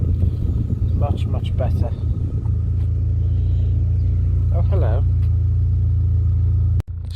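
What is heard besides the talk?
Vauxhall Corsa B car engine running, warming up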